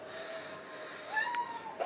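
A cat gives a short, thin meow and then a couple of brief higher mewing calls, faint and close, over a quiet indoor room background.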